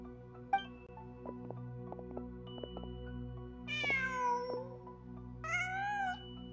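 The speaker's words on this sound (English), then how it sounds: "Just a cat." A cat in the video game Genshin Impact meows twice, two clear drawn-out calls standing out over a steady ambient game soundscape with soft background tones and small interface-like clicks.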